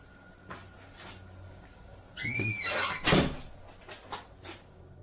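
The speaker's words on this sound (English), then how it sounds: "He enters the kitchen, and the demon shuts the door behind him." A kitchen door is shut, with a squeaky creak rising as it swings, followed by a solid thud and some softer knocks around it in a quiet room.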